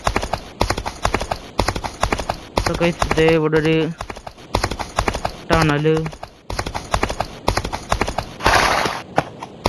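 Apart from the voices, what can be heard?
horse hooves galloping in a western gunfighter video game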